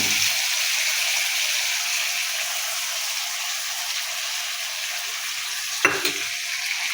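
Potatoes fry in hot oil with spice paste in a pan, a steady close sizzle running throughout, broken near the end by a brief clatter of stirring.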